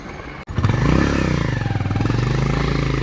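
A motorcycle climbs Kurumbalakotta hill in Wayanad, its engine catching after a brief dropout and then revving into a loud, close, pulsing throb as it labours uphill.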